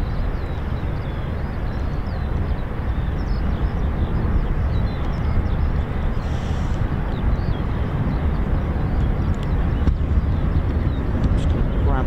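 A US Air Force MC-130J Hercules fitted with air-to-air refueling pods, its steady loud propeller-engine roar filling the whole stretch without letting up, like an aircraft passing nearby at a military airfield.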